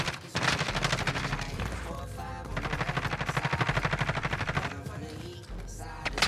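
Rapid automatic gunfire bursts rattle in Call of Duty: Warzone, with sustained strings of shots and brief pauses, loud and close, mixed with game sounds.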